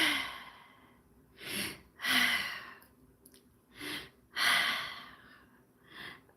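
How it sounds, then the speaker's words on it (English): Several people breathe deeply together in a guided acupressure session, long audible inhales and sighing exhales repeating in slow waves, about five breaths, close and fairly loud with no talking. "take 4 deep breaths"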